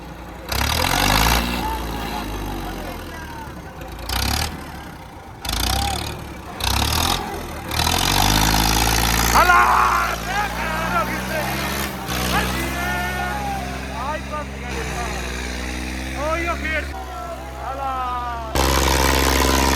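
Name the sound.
tractor engines running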